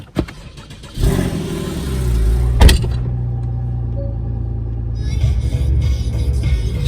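A Porsche PDK performance car, seven years old, cranks briefly and fires up with a sharp rev flare, then settles into a steady, close, rumbling idle with a slight lift in revs near the end.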